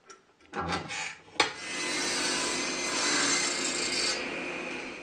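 A thin strip of wood being cut on a saw with a fence, a short rising whine as the blade spins up, then a steady close cutting drone for a few seconds that fades out.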